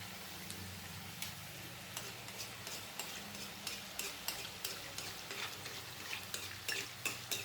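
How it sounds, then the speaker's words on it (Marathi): Modaks fry slowly in oil in a kadhai over low heat, giving a faint, quiet sizzle. Soft, repeated clicks of stirring or utensil taps sound at a close, irregular rhythm. "मोदक पाच ते सहा मोदक जेवढे बसतील कढईत तेलामध्ये तेवढे हे टाकून घ्यायचे आहेत आणि मंदाचेवरच तळायचे आहेत"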